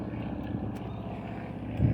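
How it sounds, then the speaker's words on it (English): Steady low mechanical drone with a throbbing, rotor-like pulse, continuous and fairly even throughout, like a helicopter passing at some distance. "Helicopter, I think"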